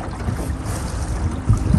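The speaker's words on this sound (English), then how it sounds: "the wind is blowing" Wind buffets and rumbles against the microphone on a small electric jon boat on a river, over a low wash of water, steady and gusty.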